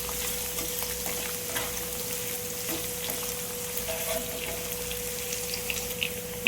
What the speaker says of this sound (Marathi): आता तेल गरम झाल्यानंतर आपण त्याच्यामध्ये कांदा टाकून घेतो कांदा हा आपल्याला कांदा आता लाल होईपर्यंत परतून घ्यायचा आहे